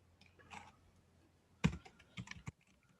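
Typing on a computer keyboard, a few soft scattered key taps followed by a louder quick cluster of clicks, close but quiet in a still room.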